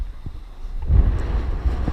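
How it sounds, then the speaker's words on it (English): Strong wind gusts buffet the microphone outdoors at a boat ramp by the water, a low rumbling roar that swells and stays steady, with no voices. "So it is very windy out here"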